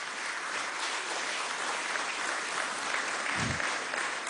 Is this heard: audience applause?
yes